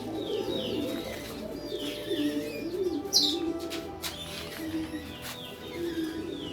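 Pigeons coo steadily in a pen holding young Beauty Homer pigeons and other squabs, with low rolling coos repeating over a constant backdrop and occasional brief chirps and a sharp flutter near the middle.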